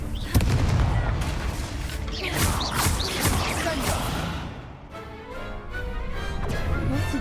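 Confringo spell blasts in a Hogwarts Legacy video game duel: a sharp opening bang followed by swooshing, crackling magical bursts and rumbling booms, with a softer whooshing tail toward the end.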